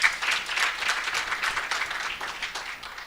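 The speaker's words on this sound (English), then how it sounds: "I think he deserves a better round of applause than that." An audience at a university faculty research day applauds with steady, dense clapping that stays full and even throughout, with no speech over it.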